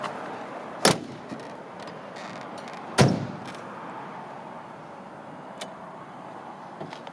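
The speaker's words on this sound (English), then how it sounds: "Doors open and close nice." A 1931 Ford Victoria with all-original metal body, its doors shutting with two sharp, solid clunks a couple of seconds apart, close by, with faint rattles and quiet handling noises between them.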